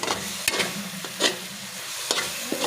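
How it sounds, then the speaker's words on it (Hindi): Panjiri mixture made from spoiled milk roasts in a pan, a soft steady sizzle broken by several sharp scraping stirs of the spoon against the pan. "तो हम इसे 1 से 2 मिनट तक अच्छे से भूनेंगे"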